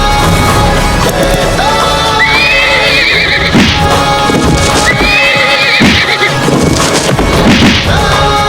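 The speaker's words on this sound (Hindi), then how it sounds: "ये पागल घोड़ा यहाँ क्या कर रहा है?" A horse neighs loudly twice in a historical battle drama scene, long shrill whinnies rising over a dense backdrop of hoof clatter, clanging and crowd noise.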